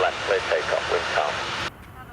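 A jet airliner taking off from runway 23 left at Manchester Airport makes a loud, close engine roar that cuts off abruptly near the end, leaving only a quieter background.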